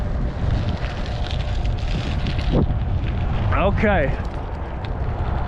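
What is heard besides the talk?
wind while cycling on a gravel road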